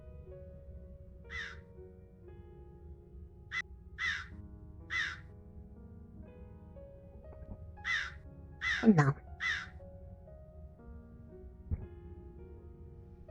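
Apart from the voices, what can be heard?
crows cawing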